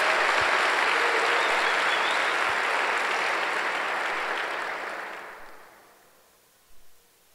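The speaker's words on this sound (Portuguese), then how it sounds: "Dá um aplauso ao Senhor Jesus." A church congregation applauds steadily for several seconds, then the clapping fades away to near silence, leaving a couple of soft thumps.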